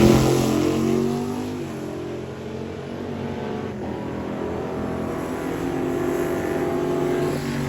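A loud drag race car engine roars and accelerates hard down the strip, its pitch climbing and holding in a sustained high-powered drone.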